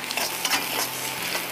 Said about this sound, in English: You can see that the jackfruit is boiling up.